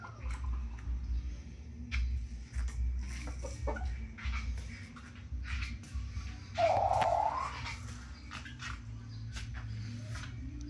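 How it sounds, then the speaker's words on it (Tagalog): Chickens, including four-month-old McLean x Miner blue bullstags, cluck softly in the background amid rustling and scattered knocks, with one louder squawk partway through. "Ayan ating mga manok."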